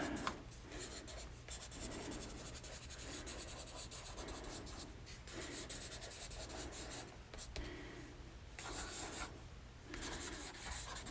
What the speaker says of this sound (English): And you can kind of scribble.